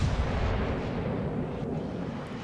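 A naval gun salvo in the World of Warships video game booms as a heavy, rumbling blast that fills the clip and slowly rolls off, loud and close with no voices.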